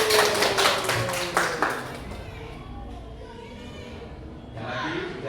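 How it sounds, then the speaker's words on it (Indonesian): A class of students gives a short round of applause, a burst of close, lively hand clapping that fades after a couple of seconds into quieter room noise and chatter. "Nomor 1 kasih aplaus."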